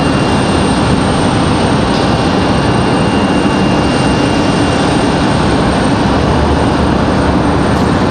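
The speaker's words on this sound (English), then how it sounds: "I believe this A321neo, mass Neo, is headed back to Salt Lake City" Airbus A321neo jet airliner at Raleigh-Durham airport, a loud, steady broadband engine roar held close and constant throughout with no talk.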